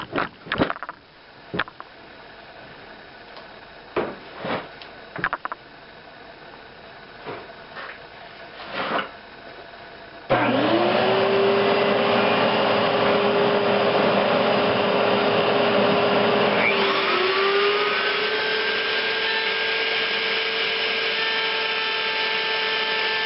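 Quiet handling clicks and knocks, then a power tool motor starts and runs loud and steady, with a shifting whine, as it removes wood in small passes to cut a mitered half-blind dovetail joint.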